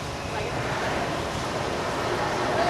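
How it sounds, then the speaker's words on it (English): Water effect for a studio rain scene, sprayed from a row of nozzles rigged above a backlot set, gives a steady, loud wash of rushing, hissing water throughout. "This sudden shower is really just a special effect. We rigged up a series of water nozzles just above your trim."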